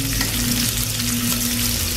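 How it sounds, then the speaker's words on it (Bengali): Chopped onions fry in hot oil in a wok, giving a steady, close, full sizzle that holds evenly throughout with no voices. "তেলটা গরম হয়ে গেছে, আমি পেঁয়াজ কুচি দিয়ে দিচ্ছি"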